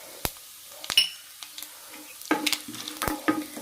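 Chana dal and urad dal sauté in a pan over a low flame, with soft sizzling broken by sharp spoon scrapes and clinks against the pan, close and intermittent, no voices.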